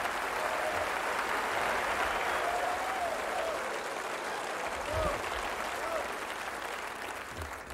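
Loud, sustained applause with cheering fills a comedy theater audience right after a mock prayer at a George Carlin stand-up show, steady throughout and fading slightly at the end.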